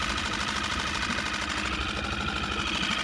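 A Lehr outboard motor on a boat idles at slow speed, a continuous close, even rumble with a steady knocking pulse and slight vibration.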